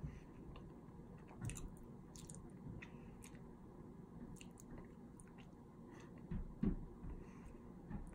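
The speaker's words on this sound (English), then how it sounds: "Why am I still chewing?" Chewing on nachos up close, faint soft mouth squelches and crunchy bites that come and go, with a couple of louder crunches near the end.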